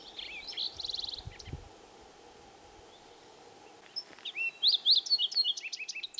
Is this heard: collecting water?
no